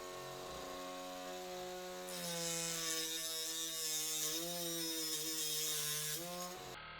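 A power tool cuts a Carbon Express Maxima Photon SD carbon arrow shaft, first as a steady whir, then as a louder, harsher grinding whine as the blade bites for several seconds before it winds down.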